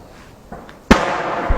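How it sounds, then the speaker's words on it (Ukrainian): A single sharp boom from an enemy tank firing about 1.5 km away cuts through quiet background, followed by a rumbling tail; a faint earlier thump and a small knock come after. "Це зараз ворожий танк працює."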